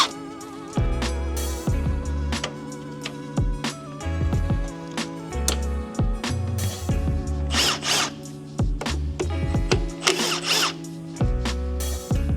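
A power tool unbolts the clutch slave cylinder beside the six-speed manual transmission of a 2006 Acura TSX with a K24A2 engine, firing in loud, repeated short bursts of whirring with brief pauses and clicks between them.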